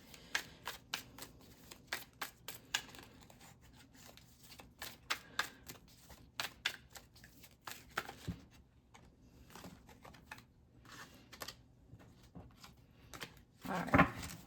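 Double-sided tarot cards are shuffled close and quietly, with repeated soft riffling bursts and light slaps coming in an uneven rhythm, ending in a slightly louder flurry.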